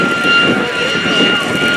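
Seven L-39 Albatros jets of an aerobatic jet team sit ready for takeoff at the Rhode Island Airshow, their engines giving off a loud, steady roar laced with a high, continuous whine.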